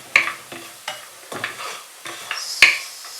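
Fried, salted cashew nuts sautéed in a pan, with about six distinct spoon scrapes and clinks at irregular intervals over a faint sizzle, close and clear, with no voices.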